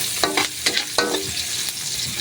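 Ginger sizzles in hot oil after onion in a pan for pork offal adobo, with several quick scraping stirs over a steady frying hiss, close and fairly quiet.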